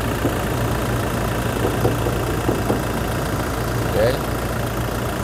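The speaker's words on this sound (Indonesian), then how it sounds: "Bisa kedengaran ya suara dieselnya" A 2019 Toyota Fortuner VRZ diesel engine idles with a steady low clatter and hum, heard up close and continuous, with a brief spoken word from a person.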